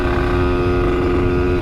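An Aprilia RS 125 motorcycle is ridden with its engine holding a steady, close, loud buzzing drone and continuous wind rumble, with no talk over it.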